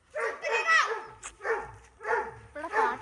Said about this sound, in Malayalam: ഇടയ്ക്ക് പട്ടിയൊക്കെ കരയിക്കും, അത് കരയൊക്കെ ഉണ്ടാവുന്നു, വിശന്നിട്ട് കരയണയാണ്